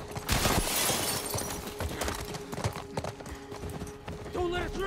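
Horse hooves clip-clopping in The Last of Us game amid gunfire and shouting, the rhythmic beats running under continuous talk and combat noise.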